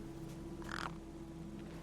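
Big birds cawing in the adventure video game Beyond A Steel Sky, a single short harsh call rising briefly over a steady low game-ambience hum.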